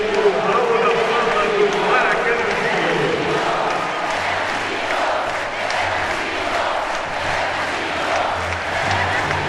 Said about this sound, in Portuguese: Torcida gritando, é Bernardinho, é Bernardinho